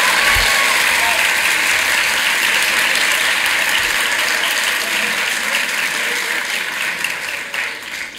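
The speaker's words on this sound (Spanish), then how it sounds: "¡La quieren aplaudir! ¡Aplaudan a la niña!" A crowd at a university welcome ceremony for new students claps loudly and continuously, a thick wash of applause that stays strong before tapering a little at the close.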